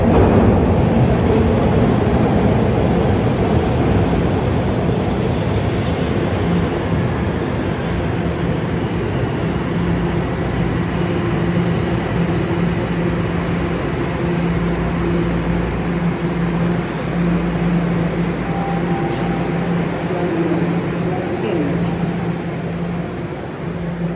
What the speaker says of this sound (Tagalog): St. Clair Subway Station. May parating na tren.